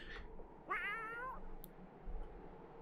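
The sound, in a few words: cat meowing in video game Just Deserts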